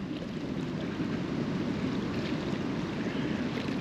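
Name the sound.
wind, waves and clinking on water while fishing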